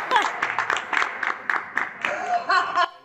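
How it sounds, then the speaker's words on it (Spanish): A studio audience on a live Argentine morning TV show claps in a quick rhythmic beat, with excited voices and laughter mixed in, before the noise cuts off abruptly. "¡Aquí el aplauso, el Guasón!"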